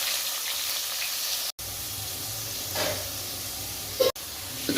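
Curry leaves and red chillies sizzle in hot coconut oil after mustard seeds have popped, a steady frying hiss with a couple of brief spatters and cut-outs.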